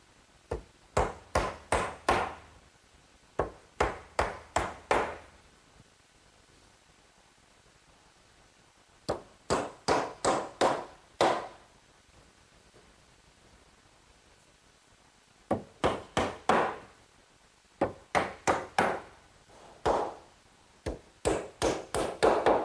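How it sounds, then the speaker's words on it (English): Six-penny galvanized common nails are hammered into wooden fence pales, sharp close hammer blows arriving in quick bursts of four to six strikes separated by short pauses, with no talking. "each of the pails is fastened in place with some 6-penny galvanized common nails"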